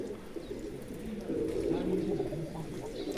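Pigeons coo in soft, low, rolling calls that repeat close by while people talk in the background.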